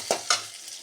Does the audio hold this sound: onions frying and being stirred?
yes